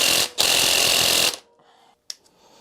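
An impact wrench removes engine cover bolts on a Yamaha XV535 motorcycle: two loud, harsh rattling bursts close by, followed by quiet, faint tinkering and a brief clank.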